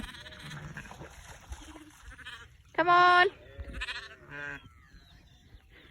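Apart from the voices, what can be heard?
sheep and lamb bleating while crossing floodwater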